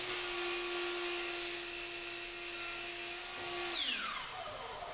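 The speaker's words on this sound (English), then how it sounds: "Take it over to your miter saw and then adjust the miter saw to the angle of that gauge." A miter saw whines steadily through a wooden leg piece for a rolling tool cart, the motor tone holding loud and even before spinning down near the end.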